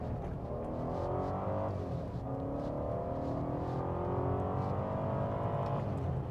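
A BMW E60 5 Series sedan accelerates hard with its engine loud and close, revving up through one gear, dropping briefly at a shift and climbing again in a steady, continuous pull.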